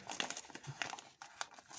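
Stiff paper packaging held with tape and staples crinkles and rustles as it is unwrapped, in a run of close, irregular crackling bursts with no talk.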